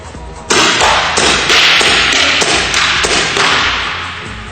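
Paintball shots fired through an Autococker barrel striking targets on a range, a series of loud, sharp impacts in quick succession over a steady outdoor background.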